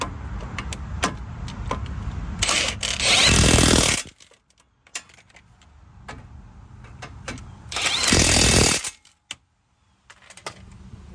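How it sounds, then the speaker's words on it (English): Brake caliper bolts on a Honda Accord being run down with a 17mm socket, two loud, close bursts of a power driver's whir, each lasting about a second and a half, among scattered clicks and clanks of tools. "I'm gonna go ahead and try to secure the bolts down here with the 17mm socket"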